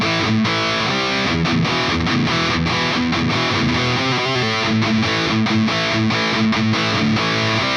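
A distorted electric guitar plays a riff at a slowed pace, chugging power chords in a steady repeating pattern, loud and close with no voices.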